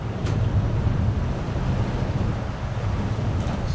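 Gusting wind at sea on a sailing boat, a steady loud rush of wind over the microphone blended with wave and water noise around the hull.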